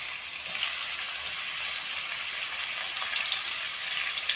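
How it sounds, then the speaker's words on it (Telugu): Sliced onions hitting hot oil in a pan for a fried chicken curry, a loud, continuous hiss and crackle of sizzling that stays even throughout with no voices. "ఆయిల్ వేడైపోయింది, ఉల్లిపాయ వేసేసుకుందాం."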